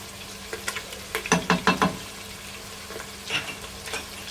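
Ginger-garlic paste and ground masala hit a hot pan for Balti Gosht, giving a close sizzle with a quick run of sharp stirring scrapes and clatters, then softer intermittent spoon knocks.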